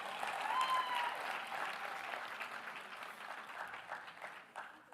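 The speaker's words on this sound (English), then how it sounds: "A massive, massive round of applause." An audience at the official launch of a national local government elections campaign gives a sustained round of applause, a dense patter of many hands clapping that slowly tapers off, with a faint voice briefly heard over it.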